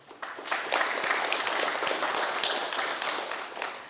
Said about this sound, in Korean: 그간 공정한 심사를 해주신 심사위원 여러분께 다시 한번 큰 박수 부탁드립니다.